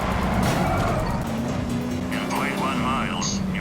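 A hacked car speeds off in a movie scene, its engine roaring and tires whining under a continuous dense wash of mixed soundtrack noise, with a rising engine note and layered effects.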